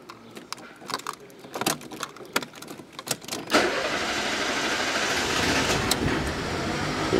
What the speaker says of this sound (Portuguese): Ligue o motor e deixe a marcha lenta em 30 segundos.